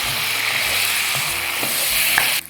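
Tomatoes sizzle loudly in a pan of oil and butter, a steady frying hiss broken by a few soft stirring scrapes and knocks of the utensil.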